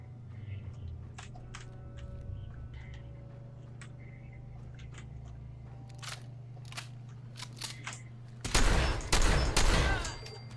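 Gunfire in Fallout 4, scattered sharp shots popping at a distance over a low hum, then a loud close cluster of rapid shots near the end.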